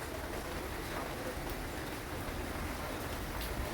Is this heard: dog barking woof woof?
no